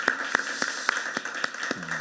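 A church congregation claps in slow, regular unison, about eight evenly spaced claps over a quiet background, fairly close and clear.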